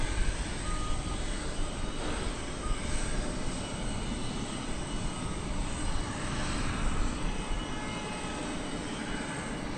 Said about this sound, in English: Or not Blair, and take off runway 18 left, American 2610.